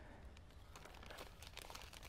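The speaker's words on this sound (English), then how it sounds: "place it into our plastic bag," A plastic bag crinkles softly and continuously as a small plant pot sown with cactus seeds is slipped inside, faint and close with no voices.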